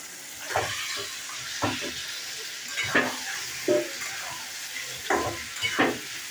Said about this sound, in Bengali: মাংসটা আমি কষাতে বসালাম